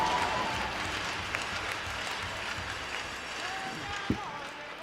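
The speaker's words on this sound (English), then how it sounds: "let's put our hands together and give these two teams a great round of applause" Crowd applause in an arena after a game at the U18 female hockey championships, steady broadband clapping and cheering at a moderate distance, with a brief thump near the end.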